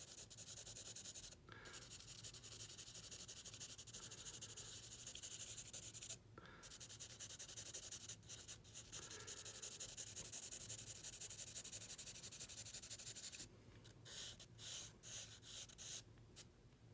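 A pencil shades on paper while an eye is drawn, making soft continuous rubbing strokes that break off in brief pauses, with quicker short strokes near the end, close and quiet.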